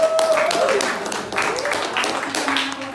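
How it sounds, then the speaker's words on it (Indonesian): Students in a chemistry class clapping for a presenting group, a brief burst of applause mixed with overlapping voices and chatter in the room. "tepuk tangan dulu kelompok"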